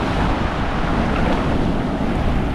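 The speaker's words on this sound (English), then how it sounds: "Those waves are crazy." Ocean waves breaking between islands off Oahu, Hawaii, a constant loud churning surf roar with wind buffeting the microphone throughout.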